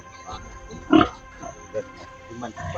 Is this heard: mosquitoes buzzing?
no